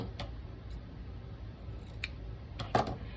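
Scissors snip a few times close by, faint and crisp, over a steady low background hum, with no talking.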